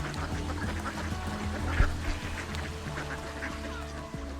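Ducks quack on a pond, a busy chorus of calls layered over dense background noise, with one sharper quack standing out partway through.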